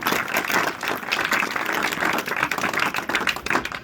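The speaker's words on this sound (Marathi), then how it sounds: "त्यासाठी सरांचं एकदा 3-3च्या टाळ्या वाजवून स्वागत करायचं" An audience of students in a school hall clapping in unison to welcome a speaker, a dense, continuous burst of crisp claps heard up close.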